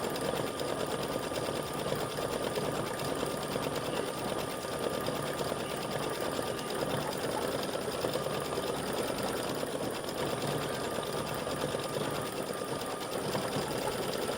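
An embroidery sewing machine stitches a peach-orange flower in a crescent moon, stars and flowers design, with a steady, loud, continuous mechanical whir and rapid needle chatter held throughout and no voices.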